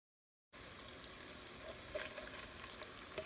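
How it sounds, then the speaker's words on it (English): Ginger garlic paste fries in a pot for a dill and pea pulao, and a steady, dense sizzle starts abruptly after a brief silence and continues evenly with small crackles. "After frying the ginger garlic paste for a minute"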